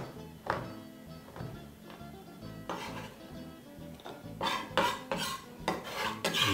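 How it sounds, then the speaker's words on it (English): A knife chopping dark chocolate on a cutting board for a molten lava cake, giving a run of close, uneven knocks and scraping taps that grow louder and quicker toward the end. "chopping up the dark chocolate"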